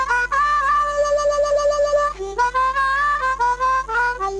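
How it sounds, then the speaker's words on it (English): A cross harp harmonica plays blues, with bent, wavering reedy notes and short phrases over a steady low hum, with no voices. "That's the sound of cross harp, the sound of the blues."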